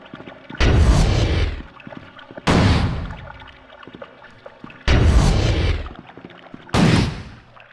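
Gunfire in the horror video game Bumbling Through Michigan: Report from Hell, four loud separate blasts, each with a long decaying boom, evenly spaced with quiet gaps between.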